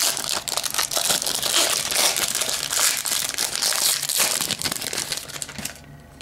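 Foil wrapper of a 2004 Bowman Sterling baseball card pack being torn open, a loud, close, continuous crinkling and crackling of packaging that fades at the end.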